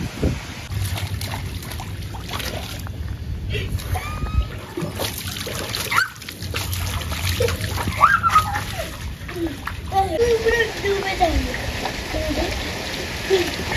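A mother and young son splash through rainwater outdoors during a rainstorm, with repeated uneven splashes and dribbling water over steady rain noise, close by, and brief voices in the background.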